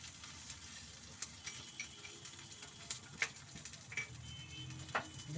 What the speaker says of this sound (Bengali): সর্ষে আর কারি পাতাটা দিয়ে তেলটাতে গরম আর কি ভেজে নিচ্ছি। সর্ষে আর কারি পাতা টকবক করে ফুটে